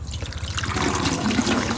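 Water pours steadily into a manual herbicide sprayer tank, a continuous close splashing and filling sound with no talking.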